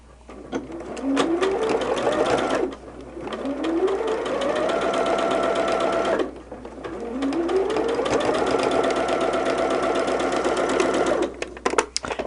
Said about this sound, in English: just sew without pinning, because we can do that pretty quickly